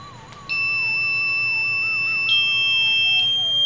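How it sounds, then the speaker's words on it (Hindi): A digital aura scanner connecting to its software gives a sustained, steady electronic beep tone that starts abruptly and holds steadily over a low background hum. "ये बीप का साउंड आता है"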